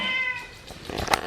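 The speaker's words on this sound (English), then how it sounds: "Hi, kitty kitty." A house cat gives a clear, close meow that rises and falls, followed by a shorter second cry.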